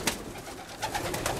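Soft pigeon coos roll on nearby in a pigeon loft, low and throaty, with a few overlapping calls and faint rustling in the enclosed space.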